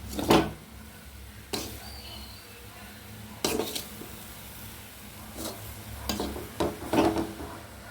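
Grated coconut stirred with masala in a pan for a fish curry, with a few scattered scrapes and clinks of a spoon against the pan over a faint sizzle, sparse and close.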